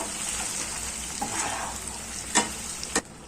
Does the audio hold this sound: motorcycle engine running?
no